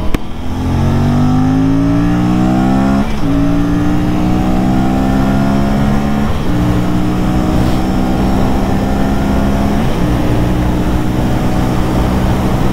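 An Aprilia RS457 sport motorcycle accelerates hard up a motorway on-ramp, the engine climbing through several gears with brief dips at each upshift, loud and close with no talking.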